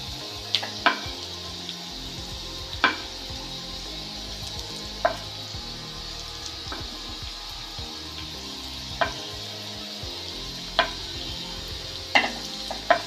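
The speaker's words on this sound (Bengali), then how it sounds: "আমি একটু টমেটো জাস্ট একটু সতে করে নেব, পেঁয়াজ সমস্ত দিয়ে দিলাম" Tomato and onion sautéing in a pan give a low, continuous sizzle, broken by sharp clinks and scrapes of a utensil against the pan at irregular intervals, with no voices.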